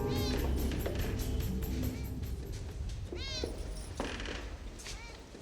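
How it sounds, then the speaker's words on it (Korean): A black cat meows several times in a movie trailer for The Matrix Resurrections, distinct rising cries heard over background music and effects. "검은 고양이가 나옵니다."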